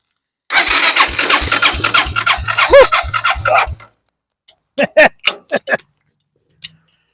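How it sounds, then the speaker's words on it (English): A dune buggy engine's starter cranks with a rapid rhythmic whirring and chugging for about three seconds and then stops, followed by a few short clanks, loud and close with no voices. "Well, starter works."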